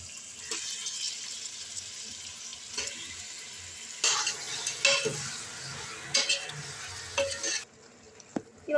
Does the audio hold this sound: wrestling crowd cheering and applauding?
no